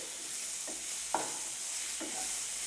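Cauliflower fries in a pan under a soft steady sizzle while a utensil stirs it in three short scraping strokes, close and clear with no talking.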